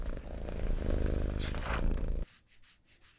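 A low, steady rumbling purr, close and continuous for about two seconds, then it stops and only faint breathy rustles remain.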